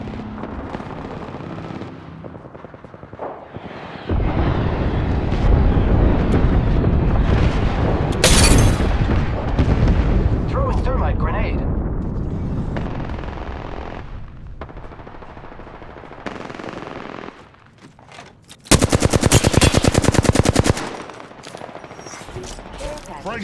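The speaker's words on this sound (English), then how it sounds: "Signaling an airstrike." Apex Legends on PlayStation 5 unleashes a sustained airstrike barrage, with dense rumbling explosions and rattling gunfire continuing loudly for many seconds, then a second sharp burst of fire near the end.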